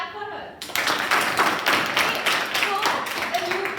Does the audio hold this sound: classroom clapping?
yes